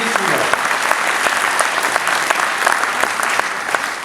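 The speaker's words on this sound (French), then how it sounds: "je tiens surtout à vous demander de bien vouloir applaudir toutes les personnes qui ont pu nous permettre de réaliser ce jumelage" An audience applauds steadily at a mayor's New Year address, a dense, even clatter of many hands with a few sharper individual claps standing out, and a brief voice at the start.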